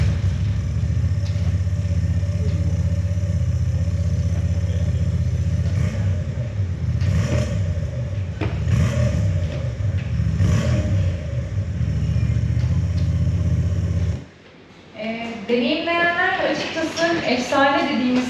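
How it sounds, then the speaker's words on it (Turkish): A deep, steady Transalp V-twin motorcycle engine rumble idling with a few throttle blips, close and loud, then it cuts out and a person starts talking. "Ve hep beraber motorun sesini dinleyelim."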